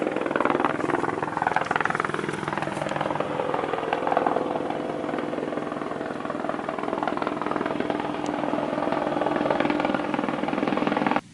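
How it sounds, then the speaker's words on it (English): A helicopter roars steadily overhead a UK smallholding, its rotor chop loud and constant throughout, with no voices over it. "here comes the helicopter"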